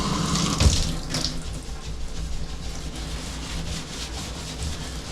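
A tap runs water into a sink in a rental bathroom being demolished, a steady rushing flow with brief scrubbing and knocking sounds near the start.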